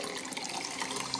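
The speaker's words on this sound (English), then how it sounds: "Give it a rinse with fresh clean tap water" Tap water runs steadily into a sink while a pH probe is rinsed, a soft continuous hiss of flowing water heard close and alone.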